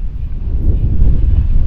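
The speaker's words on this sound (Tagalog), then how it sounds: "Sa lakas pa ng hangin, walang joke." Strong, steady wind roars and buffets the microphone on a long suspension hanging bridge, a heavy low rumble with no voices.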